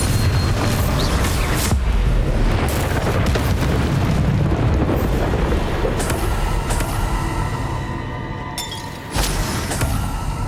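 Heavy rumbling blast of the Bombarda spell in Hogwarts Legacy on Nintendo Switch, a sustained loud booming roar that dips briefly and surges again near the end.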